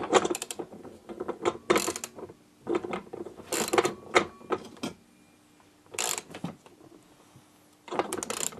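Ratchet and socket tightening a nut on a two-stroke engine: several close bursts of quick mechanical clicking, separated by short pauses, with no talk.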